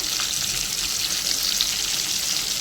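Garam masala and cumin frying in hot oil left over from cooking fish, a steady, even sizzling hiss with no distinct stirs and no voices.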